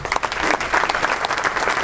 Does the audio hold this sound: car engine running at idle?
no